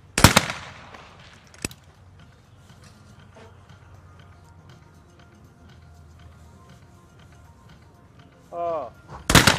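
Shotgun blasts in a men's trap World Cup final in Lonato, Italy: a loud close shot opens, another follows, then a long quiet stretch of outdoor ambience before a further sharp report at the end, with a faint voice near the close.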